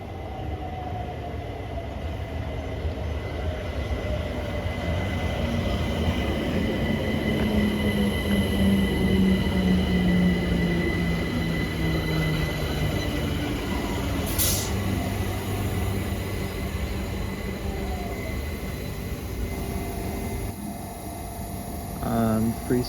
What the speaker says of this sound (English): we have another 378 arriving into Wandsworth Road bound for Clapham Junction from Dalston Junction